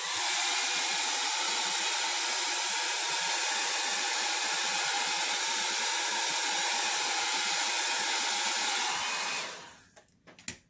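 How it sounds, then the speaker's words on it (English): A hair dryer blows steadily and loudly close by, spreading alcohol ink across a surface, a constant whooshing roar that cuts off near the end, followed by a few faint knocks. "I'm going to go ahead and use my dryer and just kind of blow it around just a little bit."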